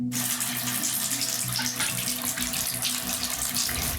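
Water gushes steadily from a tap in an apartment with rotting pipes, a continuous close hiss and splash with no talk.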